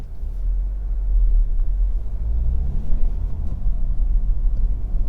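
A Honda CR-V 1.6 i-DTEC diesel SR five-door pulls away on a road test, a deep steady engine rumble and road noise heard from inside the cabin, building gradually with no talking.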